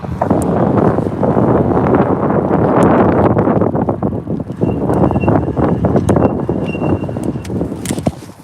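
Strong wind roars across the microphone while an electric mountain bike rides through city streets, a dense, continuous buffeting rush that stays loud for the whole stretch with no speech.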